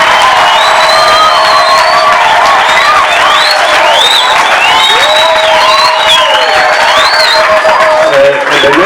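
A church congregation at a live Sunday gospel service with the Ebenezer Gospel Singers claps and cheers loudly and steadily, with whoops and high voices rising over dense, continuous applause.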